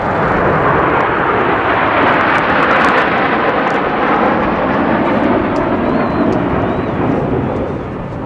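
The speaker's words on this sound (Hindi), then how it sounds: "इन जैगुआर विमानों की रफ्तार" Jaguar jet aircraft roar past in a loud, sustained flypast at the Republic Day parade. The roar fills the whole stretch and eases slightly at the end.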